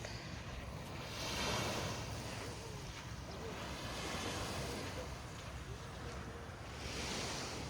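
Steady wash of sea waves at a beach resort in Sogod, Cebu, Philippines, with gentle swells of surf, a constant broadband rush touched by some wind on the microphone.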